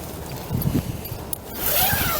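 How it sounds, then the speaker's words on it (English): A zipper pulled closed in a couple of quick scratchy runs, close by, with a soft rustle of fabric before and after. "Zipper up."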